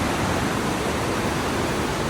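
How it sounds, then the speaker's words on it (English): The glacial Little Susitna River, along the road to Hatcher Pass, rushes with a dense, steady roar of flowing water, constant and fairly loud with no voices. "This is the Little Susitna River"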